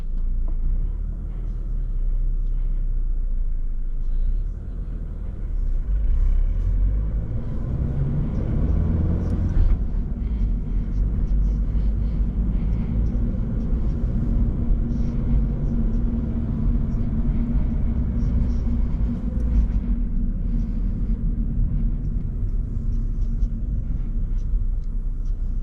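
A 2024 Toyota GR86 Premium with a six-speed manual pulls away and drives on, its low engine drone and road rumble steady and close throughout, heard from inside the cabin.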